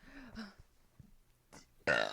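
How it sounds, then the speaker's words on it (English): A single thick, drawn-out burp bursts out loudly and close at the end, after a few quiet breaths and faint murmurs. "Let me burp 1 second."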